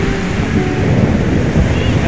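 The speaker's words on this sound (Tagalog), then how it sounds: "ang lakas ng alon." Strong ocean waves roll in at a beach during a family outing, a loud continuous roar of surf mixed with buffeting wind on the microphone, with no clear breaks between swells.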